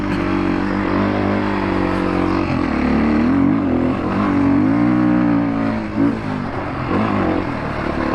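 A dirt bike engine revs hard while riding over dirt on an adventure ride, its pitch rising and falling through several throttle blips, loud and close with no talk.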